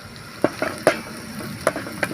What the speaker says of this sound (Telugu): 1 నిమిషం పాటు పచ్చిమిర్చి బాగా వేగాలి ఫ్రెండ్స్.